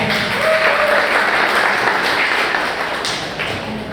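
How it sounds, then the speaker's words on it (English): An audience at a school event applauds, a loud dense wash of clapping held steady for several seconds before it starts to thin out. "Give her a round of applause."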